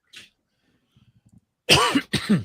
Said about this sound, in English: even with me coughing